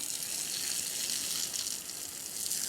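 A hose sprays water steadily onto freshly planted sweet potatoes in a garden row, a constant close hiss and splash that runs unbroken, with no talking.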